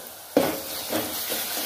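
Masoor dal masala with salt and red chili powder being sautéed in a pan: a sudden sizzle starts and keeps going as the mix is stirred, with soft scraping strokes at steady intervals, close and moderately loud, with no talking.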